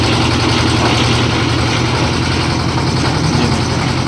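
The diesel engine of a new concrete mixer idles nearby, a loud, constant low rumble that stays steady throughout, with no voices.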